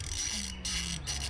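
A ratchet turns a bolt on an MK7 intake elbow, giving a faint, brief run of clicking close by against a low background hum.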